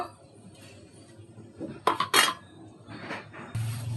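A lid is set onto a metal cooking pot holding a bottle gourd, shrimp and tomato curry, giving a couple of bright metallic clinks and clatters midway through an otherwise quiet kitchen.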